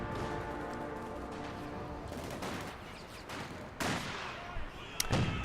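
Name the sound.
gunfire at a sniper in the video game Company of Heroes 2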